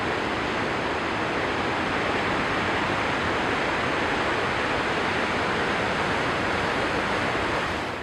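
Heavy ocean surf surges and washes over rocks at Sheffield Beach in Ballito, a loud, continuous roar of breaking water that fills the whole stretch without pause or voices.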